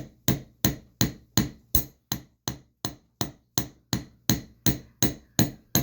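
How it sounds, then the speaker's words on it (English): A hammer gently taps a wire earring frame in about fourteen evenly spaced, crisp metallic strikes, each decaying quickly, close up and alone with no talk. "So I'm going to go ahead and gently hammer all the way around."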